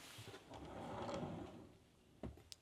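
A dresser drawer slides along its runners in a quiet closet, a soft rumbling glide followed by a couple of small knocks as it settles shut, with no one speaking.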